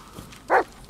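A single short, loud dog bark in the Blair Witch video game, standing out clearly against a quiet background.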